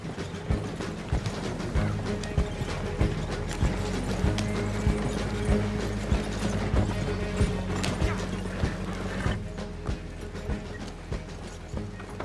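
Hooves clip-clop in a steady rhythm as a horse-drawn wagon rolls along, wooden wheels and tack creaking and rattling close by, with occasional mechanical clicks, in Red Dead Redemption 2.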